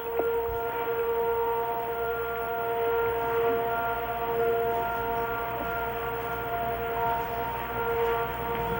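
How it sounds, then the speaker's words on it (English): An air raid siren wails over Riyadh during the Desert Storm war, a loud, steady sustained tone with slow swells in pitch that carries unbroken and alone. "the sound of air raid sirens tonight"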